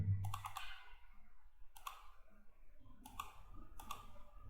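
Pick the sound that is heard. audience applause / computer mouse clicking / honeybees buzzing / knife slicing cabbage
computer mouse clicking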